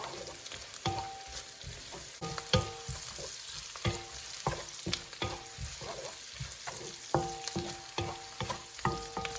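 Carrots stir-fry in a pan on an electric stove for egg tofu with mushrooms, a soft steady sizzle broken by regular, close scraping and tossing strokes of a spatula.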